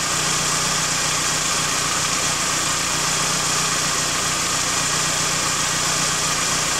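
A car engine idles slightly unevenly after a cold start, giving a steady, close mechanical hum with a constant hiss and a faint wavering pulse, with no speech.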